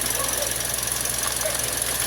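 Toyota Vios dual VVT-i engine with a faulty ignition coil, misfiring while it runs, heard up close as a constant harsh engine noise with a faint, irregular ticking pulse and no clear talking.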